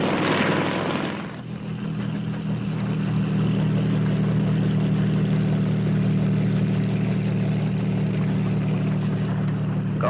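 Helicopter in flight near Las Vegas and Boulder Dam, a loud, steady rotor and engine drone with rhythmic blade chop throughout, preceded by a brief burst of hiss.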